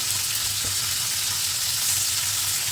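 Onion and garlic paste sizzle steadily in a pan, a constant broadband hiss of frying with low hum underneath, close and even throughout with no talking.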